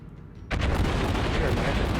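World of Warships naval guns firing: a quiet lull, then a sudden loud salvo that breaks into sustained rumbling blasts and crackle, with faint talking mixed underneath.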